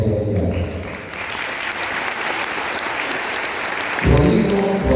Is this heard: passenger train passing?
no